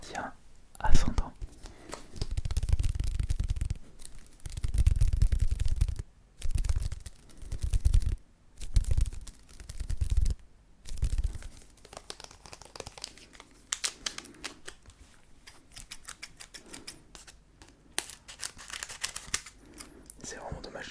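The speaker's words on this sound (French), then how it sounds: "Maintenant nous allons ouvrir le booster gardien ascendant" A Pokémon Guardians Rising booster pack being opened, with close crinkling and tearing of the foil wrapper alongside soft whispered talk.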